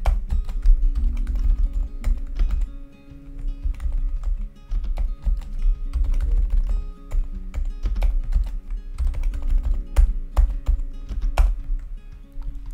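Computer keyboard typing with clicks and taps, including the space bar and Enter key, during work on an Excel dashboard. The keystrokes are close and fairly loud, arriving in irregular bursts and single strikes without a pause.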